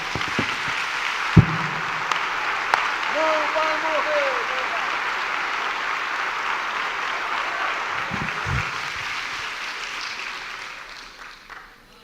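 Church congregation applauding after a sermon, a broad wash of clapping that holds steady then fades out toward the end, with a few knocks and a faint voice at moments.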